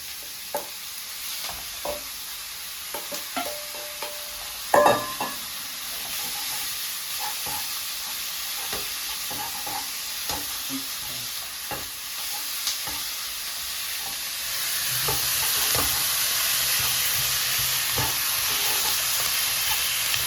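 Sliced onion and chicken stir-frying in a pan for tomato-sauce spaghetti, a soft steady sizzle broken by scattered clinks and scrapes of a utensil and one sharp knock, growing hissier and louder near the end.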